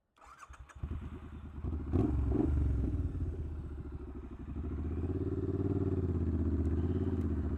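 A Triumph Scrambler 900 motorcycle fires up with a clattering start, then settles into a steady, deep engine rumble heard close by, with no speech.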